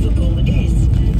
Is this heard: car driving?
yes